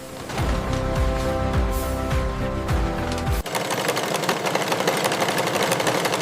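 A factory machine making cushions drives needles with a fast, steady mechanical chatter and rhythmic hum. The texture changes abruptly partway through into a denser, busier clatter, close and continuous with no voices.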